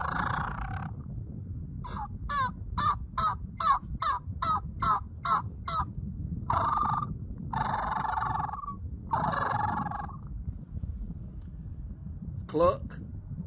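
A Brute Tube latex turkey call is run to imitate turkey clucks and a fluttering purr, sounding as a string of short, evenly spaced notes followed by longer rolling calls, moderately close, with occasional talk between them.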